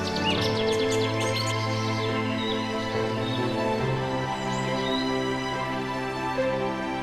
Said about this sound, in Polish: Ciszę łagiewnickiego lasu raz po raz przerywają nawoływania licznych ptaków reprezentujących ponad 100 gatunków.